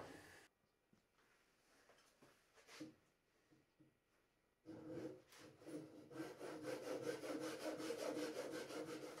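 A bandsaw cuts a wood block for a carved kereru wood pigeon. Quiet scraping and handling noises give way to a continuous buzzing cut that grows louder toward the end.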